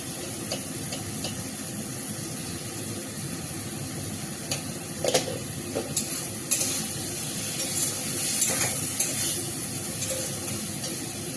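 A spiced dish fries in a pan in a home kitchen, a steady soft hiss and sizzle with a few clinks and scrapes of stirring toward the middle, no talking.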